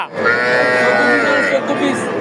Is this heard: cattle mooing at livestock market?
yes